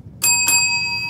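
A double bell chime sounding twice in quick succession, bright and ringing with a sustained tonal tail, close and clear with no talking.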